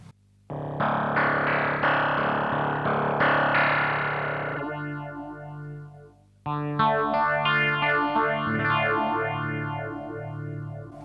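An electric guitar through an Electro Harmonix Bad Stone phaser pedal with the feedback set high plays two sustained strummed chords, each sweeping with an intense, resonant whooshing phase that slowly decays, loud and alone.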